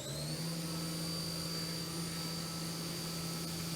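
Haas Mini Mill CNC spindle spinning at 10,000 RPM on a fast peck drilling cycle into 1-inch thick material. A steady high-pitched machine whine runs continuously and evenly without a break.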